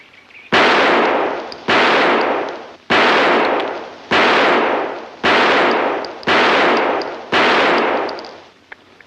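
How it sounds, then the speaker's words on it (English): Seven loud, evenly spaced gunshots, each about a second apart, with a sharp crack and a long ringing decay; no talk, from a 1939 mystery film scene. "Go ahead and shoot now."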